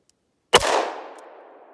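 A single sharp report from a Ruger LCR revolver firing Buffalo Barnes 110-grain all-copper 38 Special +P rounds, heard from about four feet away, with a loud crack followed by a ringing decay.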